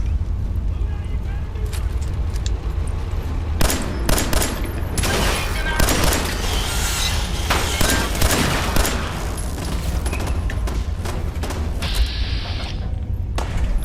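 Turret gunfire in the Fallout 4 video game: bursts of rapid mechanical shots and thuds come through a dense game soundscape, with a player talking over parts of it.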